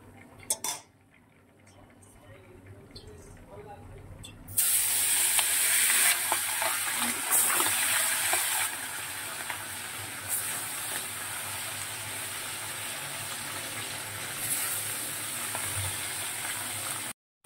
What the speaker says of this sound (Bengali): পনিরটা রান্না হচ্ছে।